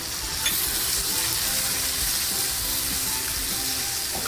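Fresh ginger dropped into masala frying for Kolhapuri mutton rassa, giving a loud, steady close-up sizzle with faint stirring scrapes, with no voices over it.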